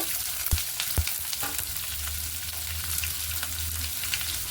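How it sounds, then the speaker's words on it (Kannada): Sliced onions and dried red chillies fry in a pan for a carrot palya, a steady sizzle broken by a couple of sharp clinks of the spoon near the start, with a low hum running through the back half. "ಒಣಮೆಣಸಿನಕಾಯಿ 4 ಹೆಚ್ಚಿಟ್ಕೊಂಡಿರೋದು, ಮತ್ತು ಈರುಳ್ಳಿ ಹಾಕ್ಕೊಳ್ತೀನಿ"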